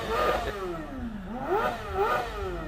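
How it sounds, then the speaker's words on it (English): A motorcycle engine revs up and down in repeated sweeping surges, rising and falling in pitch, fairly close and loud. "That's a motorcycle."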